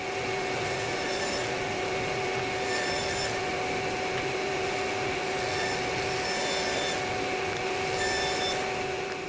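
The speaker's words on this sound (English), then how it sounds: "tilt the blade on my table saw to 45 degrees so that I can chamfer the edges" A table saw with its blade tilted to 45 degrees chamfers the edges of a wooden sanding block, giving a steady, loud, continuous motor whine with a dense cutting rasp and no pauses.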